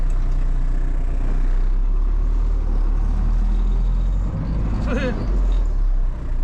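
An MTZ 892 tractor engine labours with a low, steady rumble as its wheels spin on ice, close and loud, with a brief rising whine near the end.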